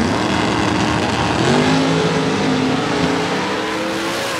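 Drag race cars, a Camaro and a Gol, accelerating hard down the strip, loud engines roaring with rising pitch as they build speed, then fading slightly near the end.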